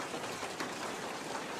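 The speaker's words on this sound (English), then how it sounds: "I'm looking at the rain" Steady rain falls outdoors in a continuous even patter, a close and constant wash of drops with no other sounds.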